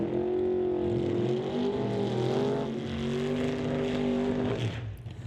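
Drag race cars, a Beretta and a 1954 Studebaker, roar loudly and steadily at a drag strip, with engine tones sliding up and down as they rev, fading slightly at the end.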